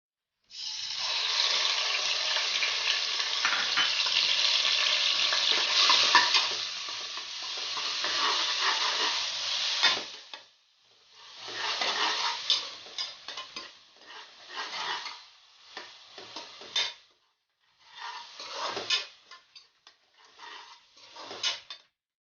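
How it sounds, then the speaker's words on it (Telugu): Onion and green chili paste dropped into hot oil, a bright, loud sizzle that runs for about ten seconds, then breaks into shorter sizzling bursts with gaps as the paste is stirred. "ఈ పేస్ట్ని నేను ఇప్పుడు ఆయిల్లో వేసేస్తున్నాను"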